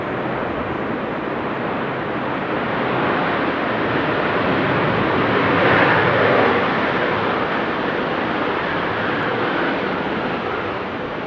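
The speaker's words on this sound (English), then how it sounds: "The Cargolac 747 coming in, assigned to runway center." Cargolux Boeing 747 cargo plane landing at Amsterdam Schiphol Airport in windy weather, a steady broadband roar that swells slightly in the middle and stays fairly close and continuous.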